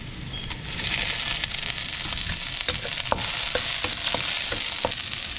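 Garlic and onion frying in oil in a pan, a dense crackling sizzle with repeated quick stirring clicks and scrapes throughout, close and steady.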